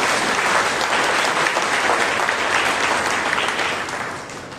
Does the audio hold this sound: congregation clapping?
yes